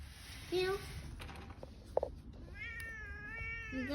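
A stray cat meows repeatedly near the microphone, with one rising cry early and a longer drawn-out wavering meow later, while people talk quietly in the background.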